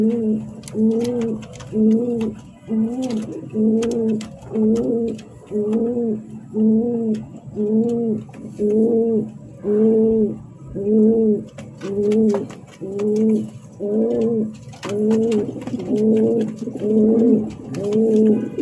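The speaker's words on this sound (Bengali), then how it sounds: "আরেকজনের রেসার কবুতর নিয়ে এসেছে, এটাও রানিং পেয়ার" Siraji Lahori racer pigeons coo close by in a steady, rhythmic series of low throaty calls, repeating about once a second for nearly twenty seconds with no talking.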